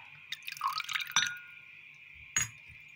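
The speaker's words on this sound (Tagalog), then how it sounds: "Lagay tayo ng konting vinegar." Vinegar is added to a sweet and sour sauce made from soy sauce and ketchup, heard as a few light drips and small splashes into a container, with sharp clinks and a faint hum behind them.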